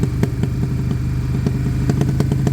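An abandoned motorcycle under restoration idles as it heats up, its engine putting out a steady low, rhythmic chug with small irregular pulses in the idle, close by and with no voices.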